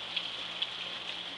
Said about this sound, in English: Feel the rain.